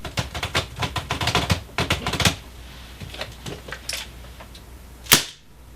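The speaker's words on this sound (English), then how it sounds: "Sometimes when I'm blogging about Airsoft, I like to perform desk pops with a Dan Wesson 8-inch revolver." Sharp desk pops from a Dan Wesson 8-inch airsoft revolver, a rapid burst of close, crisp snapping clicks, then sparser pops and one louder final crack, with no talk.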